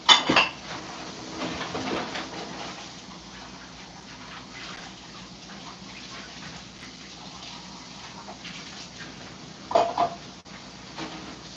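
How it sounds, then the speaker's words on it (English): Dishes are washed and stacked at a kitchen sink. Plates and cutlery clatter loudly at the start, running water and soft rinsing follow, and another burst of clinking dishes comes near the end. "says the guy doing the dishes on a Tuesday morning"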